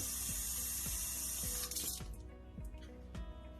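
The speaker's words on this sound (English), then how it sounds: "Get some hot water and fill the silicone bladder." Hot water runs from a tap into a silicone feeding bottle bladder, a steady close splashing stream with soft rhythmic knocks, then the flow thins and changes tone partway through.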